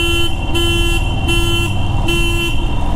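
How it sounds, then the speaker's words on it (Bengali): A motorcycle horn honks in three sustained blasts, loud and close, on a road running beneath hills near a small tunnel with a railway line above, over steady engine and road noise. "হেভি লাগে হর্নের আওয়াজটা"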